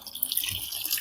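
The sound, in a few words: water running from a tap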